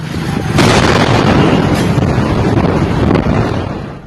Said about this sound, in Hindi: आग से पहले एक के बाद एक कई धमाके हुए